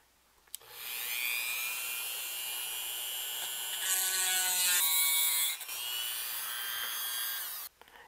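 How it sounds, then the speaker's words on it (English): A Dremel rotary tool with a small pointed bit whines steadily at high speed while widening a screw hole in a metal tube amplifier chassis, close and continuous for about seven seconds, with its pitch shifting slightly under load and no talking. "you're going to have to open up this hole a little bit with a Dremel tool"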